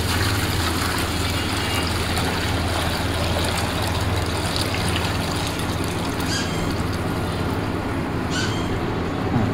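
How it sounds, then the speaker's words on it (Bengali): Water drains down inside the tank of a Vision air cooler, a steady, even rushing wash that holds at constant loudness throughout with no pauses and no talking. "এই শব্দ শুনতেছেন সম্ভবত, পানি যাওয়ার শব্দ হচ্ছে"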